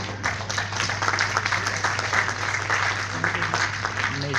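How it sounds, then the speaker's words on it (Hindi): Audience clapping in a hall as people are called onto the stage at a business meeting, a steady patter of applause with a low hum underneath and someone talking over it. "इनके लिए एक बार जोरदार तालियां हो सकती है"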